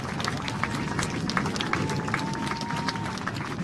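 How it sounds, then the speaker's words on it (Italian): A crowd at an air show claps and cheers for the solo pilot, steady dense applause out in the open, fairly loud throughout with no pauses. "si merita tutto il vostro applauso"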